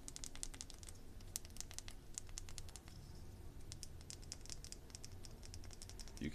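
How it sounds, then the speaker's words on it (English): Buttons on a disassembled keyboard are pressed in quick irregular clusters of small, sharp clicks, close but quiet over a faint background hum, with no talking. "There is the keyboard with the buttons still working."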